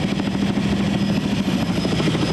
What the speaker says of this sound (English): We're getting quite a bit of buffeting up here in the chopper.